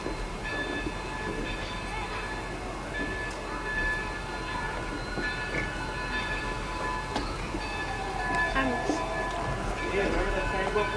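A New Hope and Ivyland Railroad excursion train rumbles steadily into the yard, with a sustained tonal ring above the rolling noise. People speak faintly over the sound.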